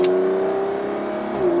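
A car engine revs and holds a steady, throaty drone close by, its pitch dipping slightly at the end.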